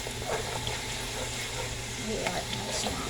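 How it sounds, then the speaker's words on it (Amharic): Garlic and ginger fry in a pan with a steady, close sizzle that runs unbroken throughout, and faint talk sits beneath it. "ዝንጅብሉ ነጭ ሽንኩርት በደንብ አድርጎ ፍስል ማለት ነው"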